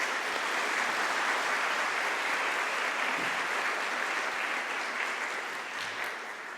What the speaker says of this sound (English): could we please give all of our students a massive round of applause?